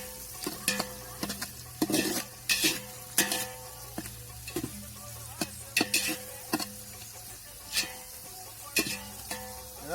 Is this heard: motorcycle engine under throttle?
no